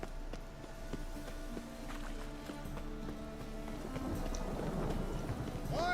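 Rain falls steadily with rumbles of thunder in a stormy scene from The Witcher 3 video game, with game music running through, and the rain grows louder toward the end.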